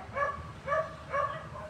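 Several dogs bark at a moderate distance in an outdoor setting, three evenly spaced barks with a fainter fourth, with no talk over them.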